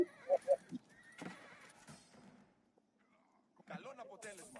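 Horses neighing in Age of Empires IV, a few short whinnies at the start followed by game sounds and a voice talking over them, fairly faint overall.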